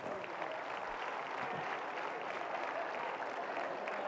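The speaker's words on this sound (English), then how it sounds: "Come on, let's give them a round of applause." Steady, fairly faint applause from a congregation at a sermon, an even wash of clapping lasting a few seconds without any voices standing out.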